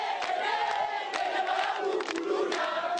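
A crowd loudly cheering and shouting acclaim for a general at an event in the Congolese capital, with a dense roar of many voices and rising bursts of yells, alone and close.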